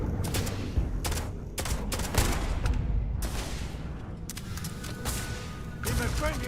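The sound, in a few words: gunfire in video game Starfield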